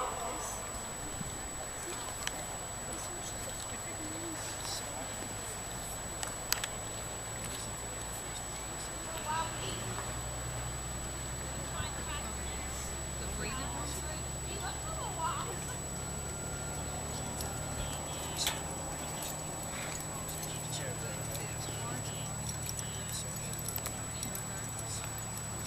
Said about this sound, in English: Lope your horses, all lope.